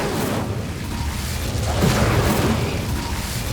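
The Incendio fire spell is cast in the video game Hogwarts Legacy, giving a dense, roaring whoosh of flame with a rumbling low burst partway through, loud and continuous with no voices.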